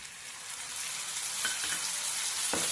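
Onion leaves sizzle in a pan with curd and pepper, a close, steady frying hiss with a few soft clinks of stirring.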